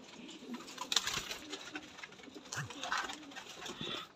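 A dub pigeon breeder pair cooing, soft low coos and murmurs close by but quiet, with faint rustling and patter around them.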